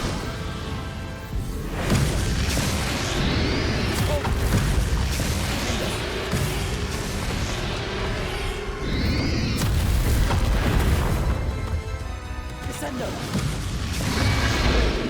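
Booming spell blasts in a boss battle in the video game Hogwarts Legacy, with heavy rumbling explosions, whooshes and thuds layered continuously under music and voices.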